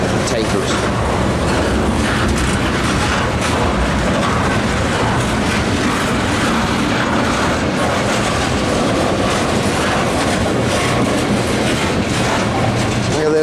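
A CSX freight train hauling ethanol tank cars rolls by slowly at restricted speed, with a steady, loud, continuous rumble and wheel clatter that fills the whole stretch.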